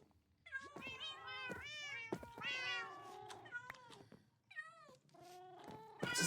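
Several cats meow repeatedly in Minecraft, overlapping high wavering calls that go on throughout, faint and fairly close.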